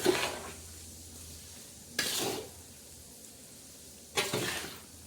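Masala for a raw mango pickle stirred in a kadhai: three close scraping strokes roughly two seconds apart, each a short gritty sweep over a quiet background, with no talk.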